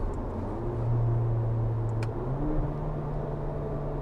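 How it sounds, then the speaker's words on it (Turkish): A VW Arteon R-Line engine idles with a deep, steady exhaust rumble through a straight pipe with no muffler, its pitch shifting slightly midway as the revs change. "Egzozu belki duyuyordur izleyiciler"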